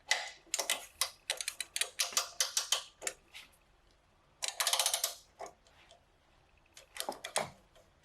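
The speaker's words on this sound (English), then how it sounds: "2 more 14mm bolts on either side here, and they're going to be going on at 33 foot-pounds of torque. So let's get the torquing." Torque wrench clicking and ratcheting on 14mm transmission bolts to 33 foot-pounds on a Honda B18C1 B-series install: close, crisp bursts of rapid ticks separated by short pauses.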